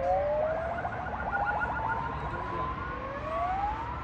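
Police car siren with a wailing, sweeping tone that rises and falls over a steady background hum, moderately loud and continuous, with no talk.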